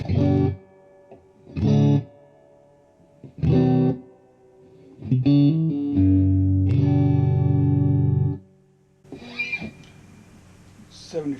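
Electric guitar played through a PRS Blistertone 50 amplifier with reverb set halfway: several short strummed chords separated by pauses, then a longer sustained chord ringing out, with a reverberant tail trailing after.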